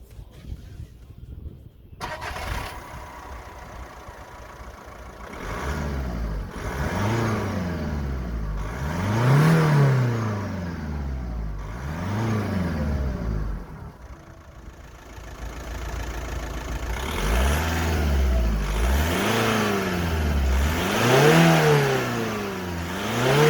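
A 2005 VW Passat B5 1.9 TDI diesel engine starts, then revs up and down in repeated rising and falling sweeps, loud and close, with characteristic clattering idle between the revs.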